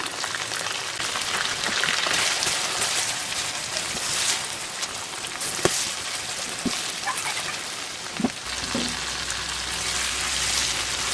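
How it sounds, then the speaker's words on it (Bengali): Shing fish (stinging catfish) fry in hot oil with turmeric, chili powder and green chilies, giving a loud, steady, close sizzle throughout with a few faint utensil clicks. "মাছটা ভাজা হয়ে গেছে"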